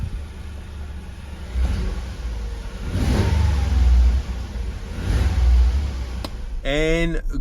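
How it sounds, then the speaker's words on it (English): A Toyota GR Yaris fitted with a PIRAS Motorsport airbox revs loudly in several rising pulls close to the microphone, engine swelling and falling between surges, with a voice briefly audible at the end. "this is the first drive after installing the airbox on the GR Yaris"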